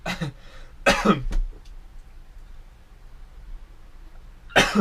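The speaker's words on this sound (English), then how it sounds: "Sorry for my coughing for some reason." A man coughs in short, harsh bursts: a couple of quick coughs at the start, a louder pair about a second in, then quiet room tone before one more cough near the end, close to the microphone.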